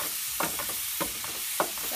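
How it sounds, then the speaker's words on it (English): Hamburger meat for tacos browning in a hot pan, a steady close sizzle and crackle with a few brief scrapes of stirring breaking through. "So I'm basically just browning the meat first."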